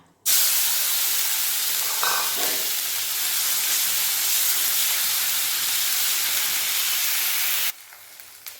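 Onion, garlic and dried chilli paste hits hot fish-frying oil with an abrupt, loud, roaring sizzle that holds steady for several seconds and then cuts off suddenly.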